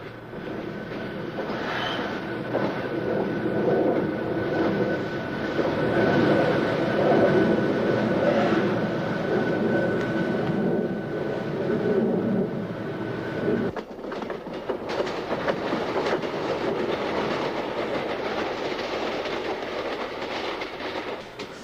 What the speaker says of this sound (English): A Silverliner commuter coach stops at Glenolden on the southbound track.